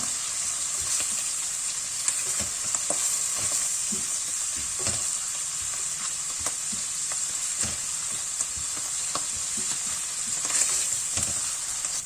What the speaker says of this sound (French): On va mijoter هذا شويه.